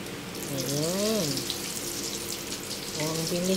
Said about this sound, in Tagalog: prito tayo ng donut.